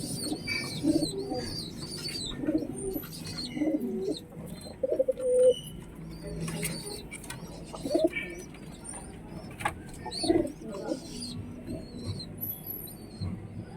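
Domestic pigeons coo in a pigeon loft, soft repeated low throaty calls from several birds, close by, with faint rustles and scratchy movement between them and no talk.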